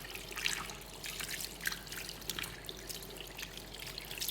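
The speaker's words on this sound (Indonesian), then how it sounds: "Kemudian jika sudah selesai, bilas cuci kembali tangan Anda." Tap water runs steadily over hands being rinsed at a sink during surgical handwashing, a soft continuous trickle with faint splashes and drips, close and quiet.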